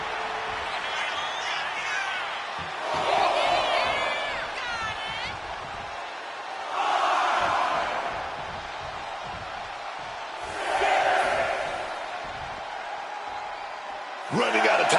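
A wrestling arena crowd in WWE 2K26 rises in repeated swells of cheering and chanting, each lasting a second or two, while commentators talk over it almost constantly.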